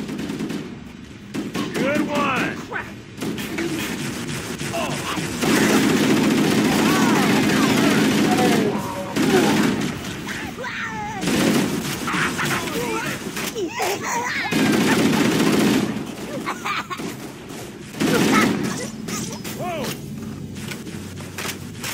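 Rapid bursts of gunfire from the Halo video game rattle through the scene in dense repeated volleys, with shouting voices over the shots.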